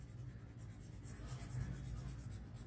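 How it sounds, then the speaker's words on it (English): A sketch pencil scratches across paper in a faint, continuous scribbling rub, close and quiet, with no voice. "I'm sketching it with my sketch pencil"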